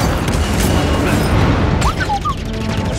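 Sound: ship cannon firing lasers in Star Wars Jedi: Fallen Order video game

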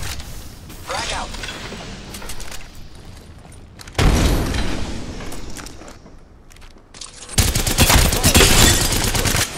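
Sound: frag grenade explosion and gunfire in video game Apex Legends

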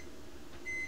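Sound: microwave oven beeping while heating water

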